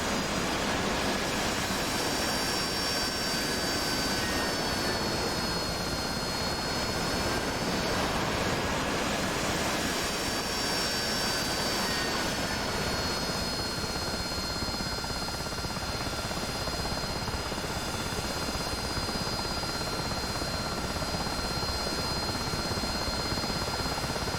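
AV-8B Harrier jump jet hovering in the DCS World flight simulator: a steady, loud broadband engine roar with a high whine, constant through the whole stretch with no voices.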